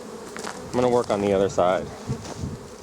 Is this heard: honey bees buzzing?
yes